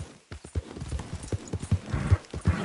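A horse in the video game Red Dead Redemption 2 gallops, its hooves drumming in a quick, loud, close clip-clop rhythm.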